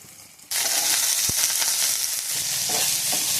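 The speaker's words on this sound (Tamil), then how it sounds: "இப்போ இதை ஃபஸ்ட்டு நம்ம எண்ணெயில் போட்டுக்கலாம்" A sudden loud sizzle as potatoes hit hot oil, a steady crackling hiss that continues strongly, with a faint clink near the start.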